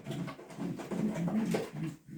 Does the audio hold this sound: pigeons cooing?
yes